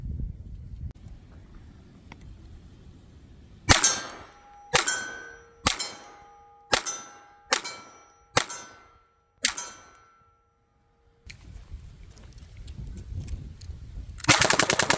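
A Cyelee Wolf .22 pistol fires about seven evenly paced shots at steel targets 15 yards away, each sharp crack followed by a ringing metallic clang.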